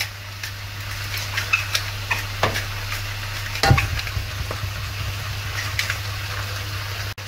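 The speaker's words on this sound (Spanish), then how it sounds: "Vamos a sellar lo que es la carne." Seasoned meat salted and peppered sears in a pan for carcamusas, a steady low sizzle with scattered pops and an occasional stir or clatter, close and continuous without talk.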